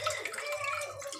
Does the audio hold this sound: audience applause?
no